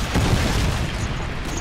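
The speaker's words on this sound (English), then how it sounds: "Friendly Predator missile inbound." A Predator missile explosion in the multiplayer game Call of Duty: Modern Warfare 2, a loud sustained rumbling boom that fills the short moment without fading.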